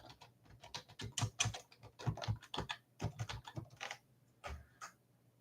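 Fingers type on a computer keyboard to look something up online, a quick irregular run of soft clicking keystrokes, close and quiet, with no voices.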